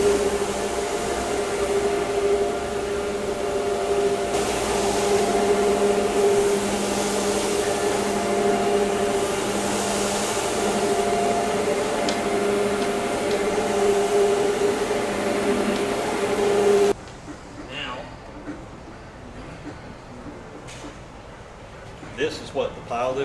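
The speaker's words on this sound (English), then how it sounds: "That's why you got a pile lift, to be able to get that stuff out." A Duplex hydro scrubber pile lift carpet machine runs with a loud, steady close motor whine and roar that cuts off abruptly, followed by quieter room sound with someone talking.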